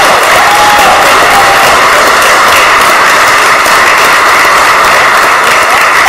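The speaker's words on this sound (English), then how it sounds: "Let's give him a round of applause." Dense, loud audience applause in a city council chamber honoring a retired Phillies baseball player, a steady roar of clapping with some cheering, sustained throughout without speech.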